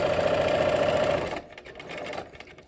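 A sewing machine runs in a steady, fast stitching burst for over a second, then stops and gives a few softer, short back-stitch runs with light clicks and handling noise.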